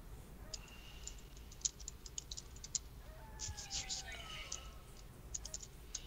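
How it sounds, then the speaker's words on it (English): Someone types on a computer keyboard while playing the old-school online game EverQuest: quiet, close-up key clicks in irregular bursts over a low background hum. "I was typing"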